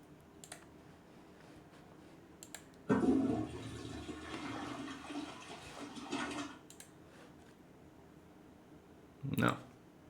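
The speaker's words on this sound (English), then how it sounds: "Flush it." A toilet flushes in a quiet room with a loud, rushing gush that lasts a few seconds and then tapers, and brief clicks and noises occur around it.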